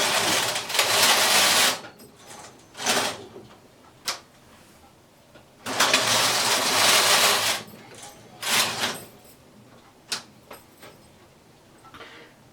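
Standard gauge knitting machine carriage swept across a row in long loud rasping passes, separated by quieter clicks and clacks of handling the yarn and needles, close and alone.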